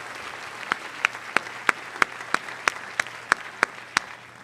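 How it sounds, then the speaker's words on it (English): Scattered crowd applause at a high school senior awards night, over which one sharp, regularly paced clap rings out about three times per second, a dozen crisp strikes in a row. "I think those numbers are certainly worthy of another round of applause for the class of 2026."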